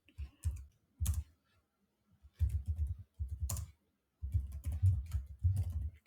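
Someone types on a computer keyboard close by, in quick bursts of clicking keystrokes separated by short pauses.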